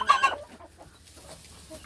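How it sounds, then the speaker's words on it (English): An old hen with plucked back feathers gives a couple of quick, faint clucks at the start, then soft scattered fowl sounds in a quiet yard. "That's a Franken chicken."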